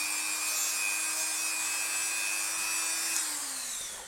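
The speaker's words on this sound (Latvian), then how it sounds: "tāpēc es zāģēju no apakšas, ka es jau nevaru izzāģēt tādu smalku, man uzreiz sanāk milzīga strīpa" A saw cutting through the plastic case of a Famicom console gives a continuous, close rasping rub with a steady high whine that sags in pitch near the end as the stroke slows, and no one talks.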